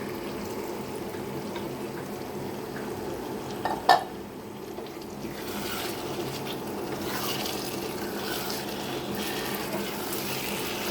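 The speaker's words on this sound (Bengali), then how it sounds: "এবার আমি চিকেনগুলো দিয়ে দিব।" Chicken pieces going into a pan of fried spices, giving a low, steady sizzle and bubbling with a brief clatter of utensils partway through, close but fairly quiet.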